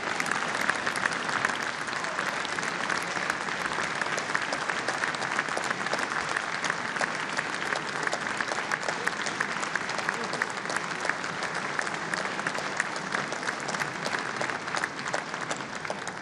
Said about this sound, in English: y'all don't quit this clapping